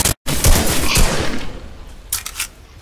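Gunfire in the video game Fortnite during a solo match: a loud burst of rapid shots opens, then further sharp cracks follow with a fading tail, no talking.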